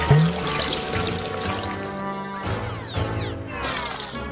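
Water pours steadily in a splashy animated setting, a continuous gurgling stream with shifting tones and brief pauses, moderately loud and with no speech.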